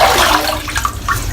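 Water splashes and sloshes close by as a face is wetted at a sink before a shave, a continuous loud watery rush with no talking.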